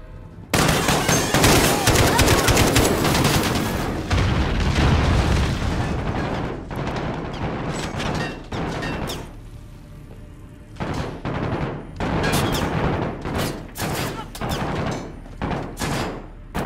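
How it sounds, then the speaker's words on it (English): Bursts of AK rifle gunfire in the Call of Duty: Modern Warfare campaign, a long dense stretch of rapid shots with booming impacts, then a lull and renewed sharp volleys of short bursts, loud and close. "we have to use this stupid freaking AK"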